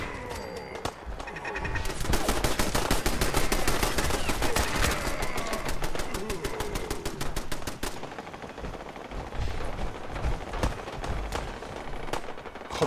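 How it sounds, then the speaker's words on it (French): Heavy gunfire from super mutants in Fallout 4, dense rapid bursts of automatic fire and shots crackling continuously and loudly for most of the stretch with brief pauses. "ça tire de partout"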